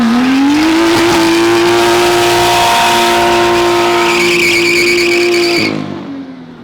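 A BMW M2 squeals its tires hard while driving, a loud sustained screech over a roaring engine for over five seconds before cutting off, with no voices.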